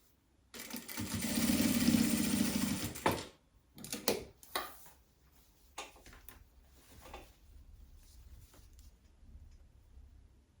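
Sewing machine stitching the collar seam of a women's long tuxedo, a short quiet burst of running stitches near the start, followed by faint handling knocks and fabric shuffling.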